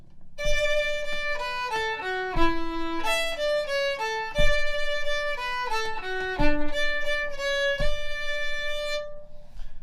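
A fiddle plays a lively melody of clear bowed notes, shifting in pitch through a flowing tune, solo and close with no voices.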